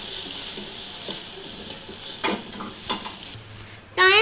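Spices and masala being stirred in a pot while cooking chana pulao, giving a soft continuous sizzle with a few faint spoon scrapes and taps against the pot, and a louder clatter at the end.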